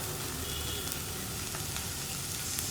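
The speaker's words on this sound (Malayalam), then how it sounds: "തക്കാളി ചേർത്തിട്ട് വീണ്ടും ഒന്ന് ഇളക്കി ഒന്ന് വഴറ്റിയെടുക്കുക." Chopped tomatoes sautéing in a hot pan for an oats dish, a dense, continuous sizzle and crackle at an even level with no talking.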